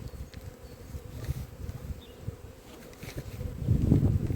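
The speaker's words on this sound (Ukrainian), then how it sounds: "бджоли тут дуже багато" Low, steady buzzing of many honey bees in an opened hive after winter, a droning hum with brief louder swells toward the end.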